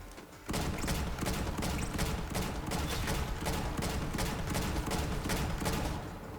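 Rapid video-game gunfire, dense and sustained, rattling in steady bursts for several seconds at close range with no talking.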